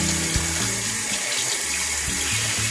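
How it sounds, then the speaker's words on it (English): Tap water streams steadily into a bathroom sink while toothbrushes are rinsed, a continuous close splashing rush that fills the whole stretch with no voices over it. "Sorry if you have water because we're rinsing out toothbrushes."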